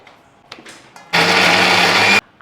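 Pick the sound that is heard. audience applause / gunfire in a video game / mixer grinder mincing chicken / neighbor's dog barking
mixer grinder mincing chicken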